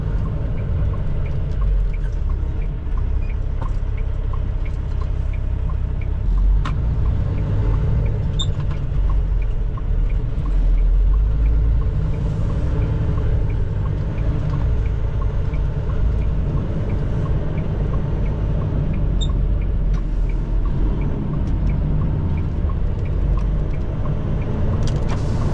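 A semi truck turns into a back entrance used for unloading groceries, its engine giving a steady low rumble throughout at close range with no talking.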